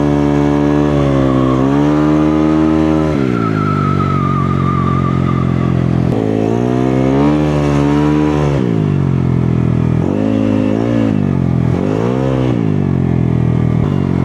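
A motorcycle engine drones steadily while riding, its pitch climbing and dropping through several rises of acceleration and easing off, loud and close throughout with no talk.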